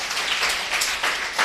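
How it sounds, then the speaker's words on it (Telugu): A church congregation claps at a Sunday worship service in Macherla, a dense, steady wash of many hands that swells slightly in waves over a short stretch. "గట్టిగా చప్పట్లు కొట్టండి"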